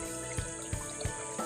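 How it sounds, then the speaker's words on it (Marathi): Spring water flowing from a pipe in rural Konkan, a continuous close splashing gush with a few soft rhythmic surges, no voices. "हा जेवढा आता पाणी फास्ट येते ना, तेवढा ऊन झाल्यावर फास्ट नाही पाणी येत"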